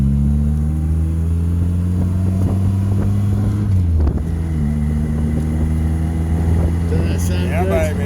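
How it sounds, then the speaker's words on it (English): An MG Midget's engine runs loud and steady from inside the moving car on an open road, with a smooth droning hum that dips and shifts pitch midway, mixed with wind buffeting and voices talking. "That engine sounds sweet as a nut, doesn't it?"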